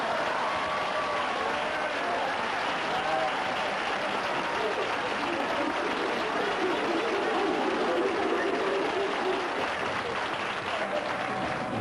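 A TV talk-show studio audience applauds for a sustained stretch, a thick, steady roar of clapping with a little crowd chatter mixed underneath, moderately loud and unbroken from start to finish.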